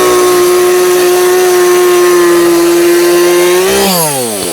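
Chainsaw cutting straight across a log, engine holding a loud steady high whine under load, then revving and dropping in pitch as the cut finishes.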